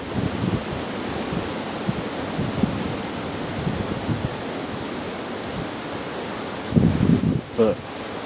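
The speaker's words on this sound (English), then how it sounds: "Right now you can hear that wind." Wind gusts through the woods at a deer camp, a steady broad rush with a louder surge near the end and faint low murmurs beneath it.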